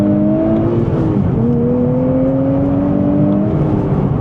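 A 2026 Nissan Z with a twin-turbo V6 and manual gearbox accelerates hard at full throttle, its engine note climbing steadily, dropping briefly at a gear change, then rising again, loud and close with a constant rumble underneath.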